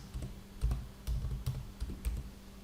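A computer keyboard being typed on in short irregular bursts of key clicks, close and fairly quiet, with no talking.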